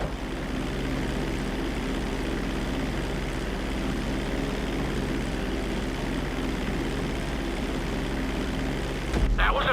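A propeller airplane flies in a GTA 5 pilot-lesson flight, its engine a steady, continuous drone that holds level throughout, with a brief louder rush near the end.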